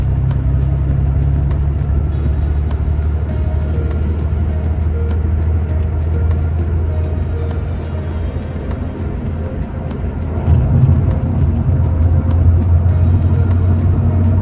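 A Porsche 911 3.2 with G50 gearbox running on E85 ethanol idles and creeps through rush-hour traffic, a steady low engine drone heard from inside the car, with a slight rise in rumble near the end.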